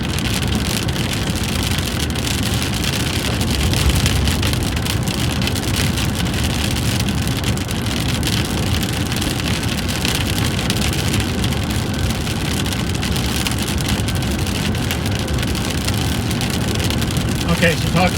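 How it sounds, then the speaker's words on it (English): Steady, dense rain patters heavily throughout, a constant wash of noise with a low rumble underneath, and talking faintly mixed in. "Maybe when the rain stops."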